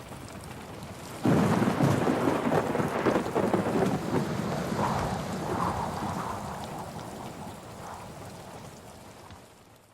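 A heavy thunderstorm with steady rain drumming on surfaces and a loud roll of thunder that breaks in abruptly, then rumbles on and slowly fades under the continuing downpour.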